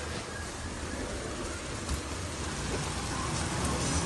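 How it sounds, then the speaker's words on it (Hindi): Heavy rain pours down in a steady, dense hiss with no pauses, loud and close, with no voices over it. "बारिश बहुत ज्यादा है"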